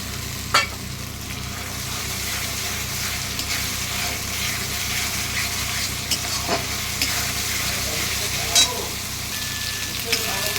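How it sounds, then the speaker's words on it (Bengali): Onion paste fries in a pan as ginger-garlic paste is added for a chicken dish cooked without water, producing a continuous even sizzle with occasional sharp spatters and stirring taps. "পেঁয়াজটা আমার ভাজা ভাজা হয়ে গেছে, এবার আমি আদা রসুন বাটা দিচ্ছি পেস্ট"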